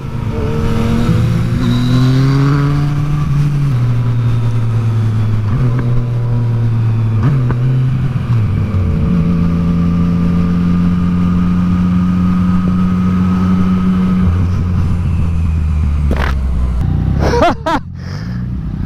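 A Triumph 675 or FZ-09 motorcycle accelerating on a road, its engine note climbing through several gear changes, loud and close, with a rising whine and a sharp burst near the end.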